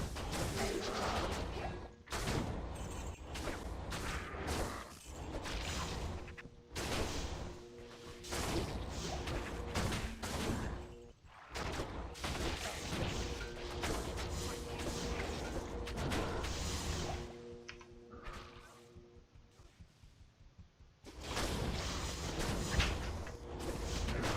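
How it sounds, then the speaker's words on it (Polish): Explosions and crashing impacts from a barbarian whirlwind build tearing through the final area of an action role-playing game, a dense, continuous barrage of bursts and whooshes with brief drops in between. "No po prostu masakra. Wszystko wybucha."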